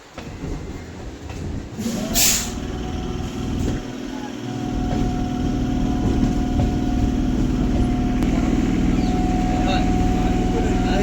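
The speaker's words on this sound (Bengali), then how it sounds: "ওই দেখো স্টেশনে ঢুকছে ট্রেনটা স্টেশনের কাছে চলে এসছে" A train rumbles and rolls into a station steadily, with a brief hiss or squeal early on and a low continuous drone throughout.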